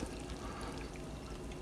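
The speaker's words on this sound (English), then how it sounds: "I've added the chicken in, and 1 cup of chicken broth" Homemade chicken broth from a bouillon cube and boiled water pours steadily into a slow cooker holding chicken, a continuous liquid splash heard close and alone.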